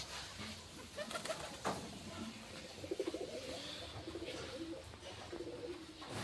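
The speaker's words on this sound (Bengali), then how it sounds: "এই যে আমাদের বাড়িতে অনেক পায়রা আছে" Soft cooing from many pigeons kept at a house repeats in short rhythmic bursts amid quiet ambient background, with a few nearby clicks and faint rustles.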